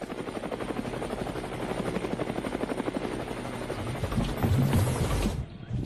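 A helicopter flying over Patna, heard from close by as a loud, steady, rapid rotor chop and engine whine that carries on throughout, with no talk.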